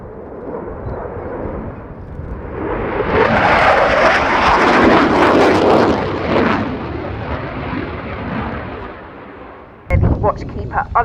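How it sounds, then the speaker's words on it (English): A Watchkeeper unmanned aircraft flown by the Royal Artillery at the RIAT 2019 airshow makes a loud engine pass that swells over several seconds and then fades away, followed by a sharp burst near the end. "Watchkeeper unmanned aircraft is being demonstrated"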